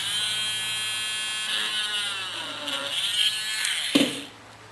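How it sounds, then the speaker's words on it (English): A small drill whines steadily while boring nail holes in model train track, a high close buzz that shifts pitch under load and ends with a brief knock before it stops. "of drilling the nail holes."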